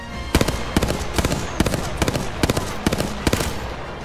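Rapid gunfire in a first-person shooter video game, short bursts of sharp shots repeating in quick rhythm, close and loud for about four seconds.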